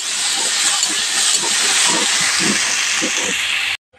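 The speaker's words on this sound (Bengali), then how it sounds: "এবার ভেজে নেব নাড়াচাড়া করে।" Potatoes seasoned with turmeric and salt fry in oil in a wok while being stirred, giving a loud, steady sizzling hiss with soft scraping knocks underneath, cutting off abruptly at the end.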